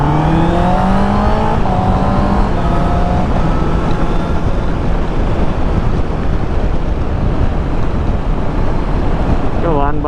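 A Honda CB motorcycle engine passes on a ride toward Kaybiang Tunnel. Its droning tone falls away in the first few seconds, nearly buried under constant heavy wind roar, and a rising engine whine returns at the very end.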